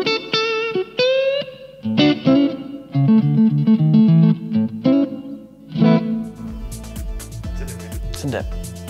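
Tokai electric guitar played through the neck pickup, a series of plucked notes and chords ringing out clearly with some effect processing, fairly loud and alone without talk.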